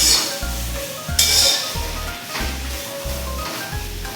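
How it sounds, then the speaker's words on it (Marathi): Cluster beans (gavar) stir-fried in a hot pan with a steady sizzle, broken by regular scraping stirs and light clinks of a spatula on the metal, close and fairly loud with no talking. "गॅस थोडासा मोठा करूया व तीन ते चार मिनिट गवार चांगली परतून घेऊयात आपण"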